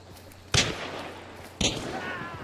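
Two sharp gunshots from the Hunt shooter game, about a second apart, each a loud crack followed by a short ringing echo tail.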